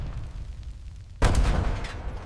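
Low rumble builds, then a sudden sharp blast erupts into sustained roaring, crackling bursts of explosions and gunfire across an airfield at Midway, loud and close.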